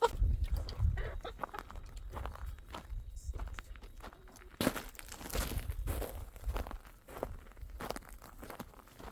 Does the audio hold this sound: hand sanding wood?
no